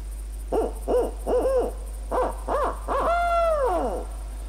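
A turkey-hunting video game's owl-hoot locator call: a series of short, hollow hoots in a quick run, ending in one longer, drawn-out wavering hoot, loud and close with no other sounds.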